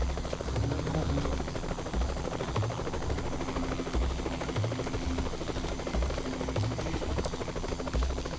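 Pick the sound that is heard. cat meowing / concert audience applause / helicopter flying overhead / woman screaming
helicopter flying overhead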